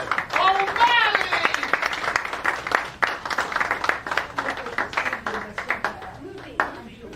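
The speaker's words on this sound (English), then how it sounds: "Again, round of applause for Mayor Thomas O'Malley!" Audience at a follies stage show breaks into applause, scattered claps building into a crowd clapping that fades out over several seconds, with voices and cheers mixed in at the start.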